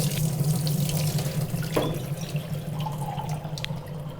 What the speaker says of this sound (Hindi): तो अब इसमें हम डाल रहे हैं ठंडा पानी।